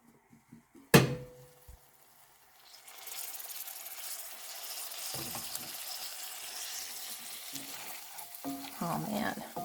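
Caramelized onions and mushrooms sizzle steadily in a pan after a sharp metallic clank, the frying hiss building and staying fairly quiet, with occasional stirring scrapes.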